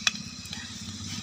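Fenugreek seeds crackle and sizzle in hot oil in a pan, a brief, soft, close hiss with a few small pops over a low background hum.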